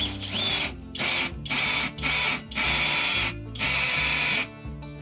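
Hammer drill boring through a brick wall during a security camera install, a loud grinding, rattling drone in several sustained bursts separated by short pauses.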